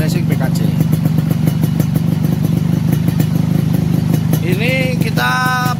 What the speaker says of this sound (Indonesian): seperti inilah suara knalpot standar racing BKJ